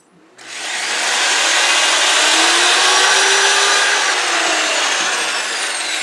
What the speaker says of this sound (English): now I'm going to finish up, smoothing up the bottom a little bit with a disc sander